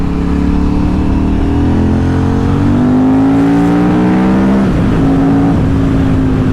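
A 2007 KTM 950 SMR motorcycle V-twin with a low Akrapovic-style exhaust runs loud and steady, its engine note rising through the revs with a brief dip and shift before climbing again, heard alone.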